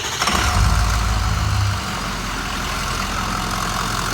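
A car engine cranks and catches, a brief loud low rumble as it fires, then settles into a steady close idle that continues to the end.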